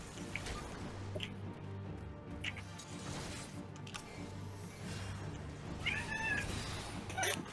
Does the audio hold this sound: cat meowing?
yes